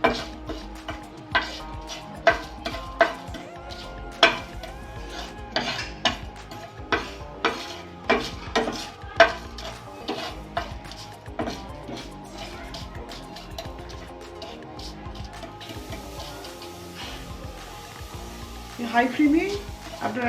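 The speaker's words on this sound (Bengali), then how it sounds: "আপনার মাছ অনুযায়ী মশলাগুলো রোস্ট করবেন" Whole spices roasting on low flame in a kadai for a rohu fish curry with cumin paste, a steady close sizzle broken by regular clinks and scrapes of a stirring utensil against the pan.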